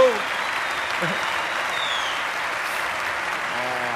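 Steady applause from an audience, a dense patter of clapping that starts right away and continues evenly to the end.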